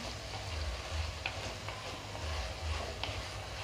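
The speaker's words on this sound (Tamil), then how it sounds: "அந்த எண்ணெயிலே அந்த சுண்டக்காய் வந்து நல்லா வதங்கட்டும்" Turkey berries and tomatoes sauté in hot oil for a spicy relish, giving a steady, soft sizzle and crackle with a few faint ticks of a spoon stirring the pan, close and continuous with no talk.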